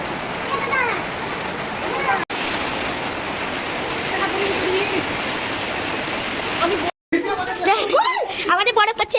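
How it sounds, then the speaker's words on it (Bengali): Heavy rain pours as a constant loud rushing hiss on a hailstorm night, with voices talking underneath and a short cut before livelier sounds near the end. "খুবই বৃষ্টি পড়ছে, এত বৃষ্টি পড়ছে যে কি করবে।"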